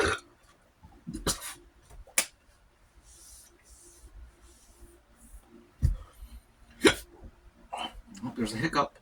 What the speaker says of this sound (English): Oh, there's a hiccup.